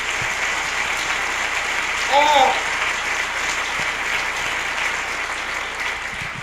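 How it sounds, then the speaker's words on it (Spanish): A church congregation at a 1996 service claps together in praise, a steady wash of applause with a voice briefly rising over it midway. "Démosle un aplauso bien fuerte al Señor."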